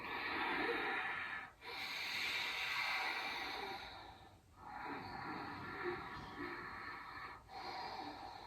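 Ujjayi ocean breathing during a yoga exercise: slow, hissing, snore-like breaths drawn through the nose, three long steady breaths with brief pauses between them, close and fairly quiet.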